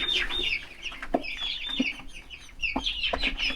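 Chickens over six weeks old cluck and chatter at a village farm, several birds close by with irregular bursts of clucks and soft calls, no talk.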